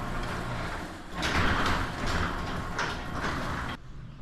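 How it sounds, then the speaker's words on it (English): A garage door opener runs and lifts a replaced garage door, a continuous mechanical rumbling and rattling with a few louder surges as the door travels, then stopping abruptly near the end. "Let's run it on the opener."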